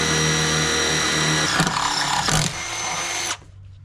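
A power drill bores through the metal strut tower of a Jetta VR6 wagon, a loud close whine with brief catches as the bit bites, then cutting off abruptly.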